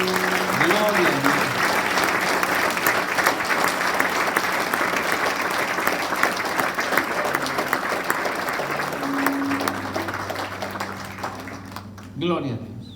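A church congregation at an anniversary evangelistic service applauds loudly and steadily for about ten seconds. A preacher's amplified voice rises over it near the start and end, and the clapping fades toward the close.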